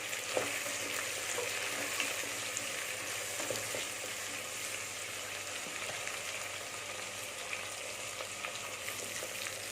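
Chopped tomatoes sauté in a pan for a Tamil mutton kuzhambu with jackfruit seeds, giving a steady, soft sizzle and bubbling hiss with occasional light stirring scrapes, constant throughout.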